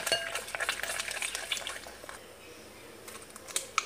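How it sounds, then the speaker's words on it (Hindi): An egg is stirred into cake batter in a bowl for a stovetop cake made without an oven, giving soft, quiet scraping and light clinking strokes in a brief, faint burst. "अंडे को अच्छी तरह मिक्स करना है।"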